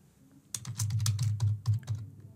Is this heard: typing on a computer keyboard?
yes